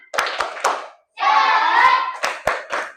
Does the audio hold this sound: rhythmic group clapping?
yes